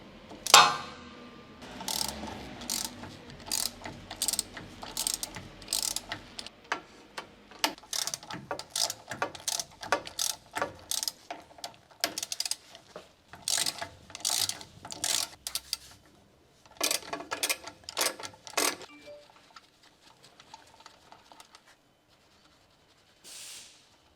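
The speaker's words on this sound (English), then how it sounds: "Use a large 12mm socket, large short extension bar, paired with a large telescopic ratchet wrench. Remove the drive shaft mounting bolts." A large telescopic ratchet wrench with a 12mm socket and short extension turns out the drive shaft mounting bolts on a Ford F-series truck, making bursts of rapid, close clicking separated by short pauses, with no voices.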